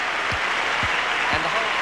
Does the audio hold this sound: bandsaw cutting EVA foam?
no